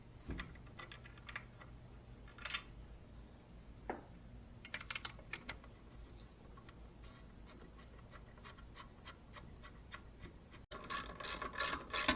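A ratchet tightens a bolt during engine assembly with a carburetor and magneto, giving quiet bursts of fast clicking in short runs near the listener, louder clicks toward the end.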